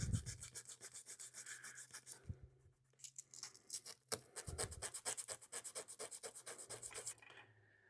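Dried CA super glue being sanded by hand, a steady run of close, quiet rasping strokes in a rhythmic back-and-forth pattern with a brief pause midway.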